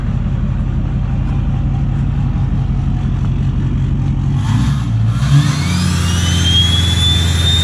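A Duramax diesel truck fitted with a big turbo, a loud close engine rumble that builds into a rev halfway through, followed by a rising high turbo spool whistle; no talk.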